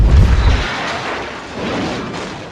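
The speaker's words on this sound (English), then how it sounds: "A deafening explosion." A plane crashing into mountains at full speed: a loud, deep boom hits at the start, then decays into a long rumbling roar that lingers and swells slightly.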